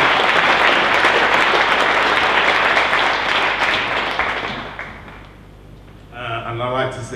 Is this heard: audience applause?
yes